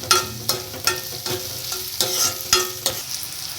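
Peas frying and sizzling in a pan with Maggi noodles, with sharp stirring scrapes every half second or so over a steady low crackle, close and moderately loud.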